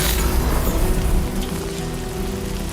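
Dense, loud downpour in the video game Death Stranding 2, a constant roar of rain washing over everything and easing slightly partway through, with no talking.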